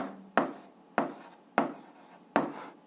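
A hand writes a fraction while solving an eighth-grade algebra exercise, giving four short, scratchy strokes spaced about half a second apart, close and clear against near silence.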